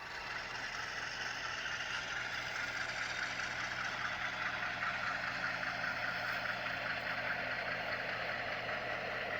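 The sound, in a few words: HO scale model diesel locomotives, F-units and U-boats, engine sounds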